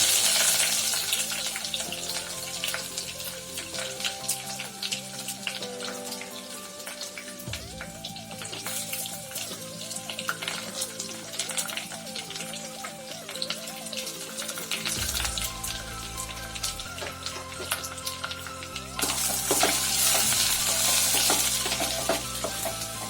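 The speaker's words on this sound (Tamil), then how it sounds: "இப்போ நம்ம பெருவங்காயம் ஆட் பண்ணிக்குவோம்." Finely chopped onions sizzle and fry in a pan while being stirred for Pallipalayam chicken, a steady crackle with scraping stirs. Background music plays throughout.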